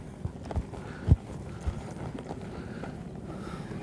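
A horse loping in an arena during flying lead change work, with a few soft hoof thuds standing out over steady wind-like background noise, fairly faint and distant.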